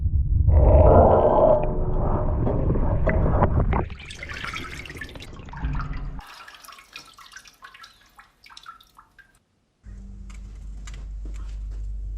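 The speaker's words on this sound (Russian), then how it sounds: "нагреваю перчатку до 870 градусов и закаливаю на воду" A hot steel plate gauntlet quenched in water, first a loud churning, boiling roar, then fizzing and crackling bubbles fading to scattered drips and near silence before a low rumble returns.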